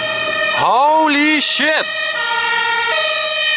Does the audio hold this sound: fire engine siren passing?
yes